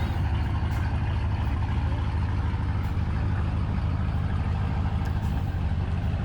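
A twin-turbo GMC truck built with eBay turbos makes a drag strip pass, its engine a loud, steady low drone running throughout with no talk over it.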